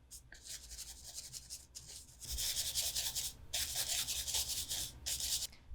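Excess gold foil rubbed off a watercolor paper sheet, a close, quiet dry scratching that comes in short strokes, then longer continuous rubbing with brief pauses.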